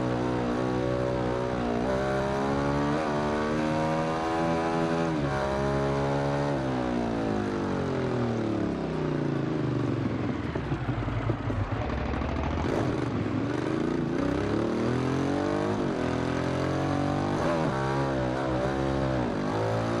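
A 2015 Ducati Hypermotard 821 SP supermoto in the Ride 2 racing game accelerates hard: a loud, continuous engine roar whose pitch climbs through the revs, dips at a gear change and rises again, with no talk over it.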